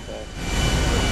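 A GTA airplane engine during an emergency landing: a brief, loud, steady roar that fills the moment while a voice speaks over it.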